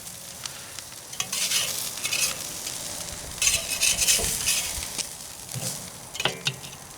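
Cheeseburger patties with melting cheese sizzle over heavy heat, a continuous close frying hiss with bursts of louder crackle and scraping throughout, no talking.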